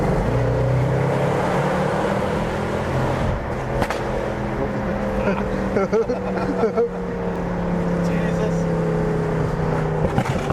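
A Mercedes-Benz C63 AMG accelerates hard on a road, its engine roaring loudly from inside the cabin, with sharp exhaust bangs and pops scattered through the pull and people talking over it.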